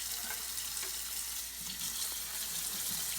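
Canned garbanzo beans are rinsed under a running kitchen tap, with a steady close hiss of water splashing into a sink and no voices.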